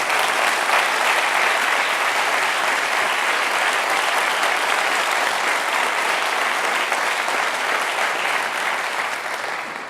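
Large school district audience at a State of the District address applauding its Teacher Forum members, a dense, sustained roar of clapping that holds steady and then begins to thin toward the end.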